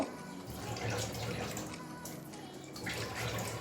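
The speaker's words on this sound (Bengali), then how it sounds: "মিক্সির বাটিটা ধুয়ে একটু জল দিয়ে দেব" Water runs and splashes steadily into a mixer grinder jar as it is rinsed, a soft continuous pour close by with a brief louder gush near the end.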